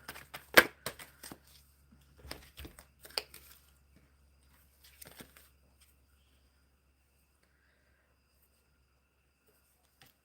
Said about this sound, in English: Shuffling for Lovebug.